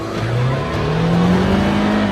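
A 2017 Ford Mustang Fastback drives with a steady, loud engine drone whose pitch climbs gradually as it accelerates, with no talking.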